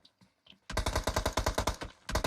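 Rapid automatic gunfire from PUBG Mobile, a dense string of about a dozen loud, evenly spaced shots after a faint lead-in, then a short further burst.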